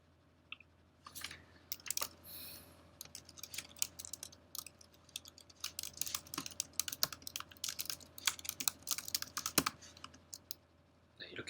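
Rapid bursts of typing on a computer keyboard while a title is entered into a web form, with irregular clicky keystrokes close by and a steady faint hum underneath.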